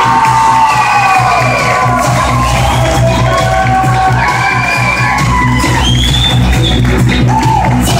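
Wedding reception guests cheer, whoop and shout loudly and continuously for the bridal party as the maid of honor and best man enter, a dense, lively crowd roar that stays strong for the whole stretch.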